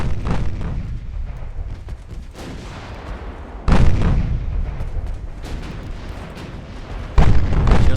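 Warship secondary and casemate guns in the naval battle game Ultimate Admiral Dreadnoughts fire in heavy, rumbling bursts, with two sharp loud blasts standing out over continuous distant gunfire and booming, and no voices.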